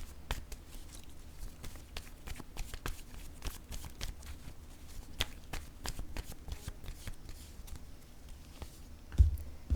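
Tarot cards are shuffled by hand in a steady stream of soft riffling flicks and taps, close and quiet, with a louder thump near the end and no talking.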